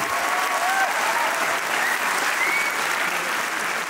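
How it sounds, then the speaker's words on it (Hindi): A seminar audience of learners in Delhi keeps up a steady, loud, continuous round of applause. Faint tonal squeaks and whistles are scattered through the clapping. "तालियां तब तक रुकना नहीं चाहिए"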